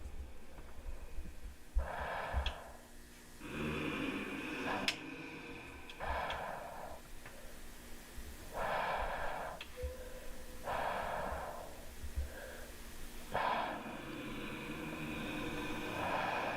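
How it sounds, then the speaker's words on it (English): Slow, heavy breathing or snoring from something unseen in the Kane Pixels Backrooms, with regular long breaths repeating about every two seconds over a steady ambient hum. "Something breathing down there, or like sleeping? Kind of sounded like snoring."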